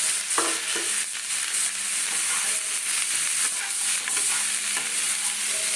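Chicken pieces frying in a pan for chicken soup: a bright, continuous sizzle with intermittent scraping and stirring knocks, close and steady throughout.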